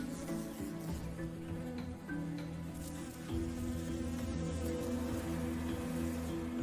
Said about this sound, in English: Enter into Japan's wild woods and you'll hear the honeybees abuzz.